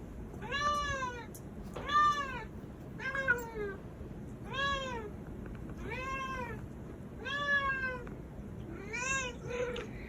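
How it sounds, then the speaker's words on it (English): A cat meows repeatedly while carrying a slipper to its owner, about seven drawn-out meows at a steady, almost even pace, close and clear over a low room hum with no talking. "Every day, this cat brings a slipper to its owner."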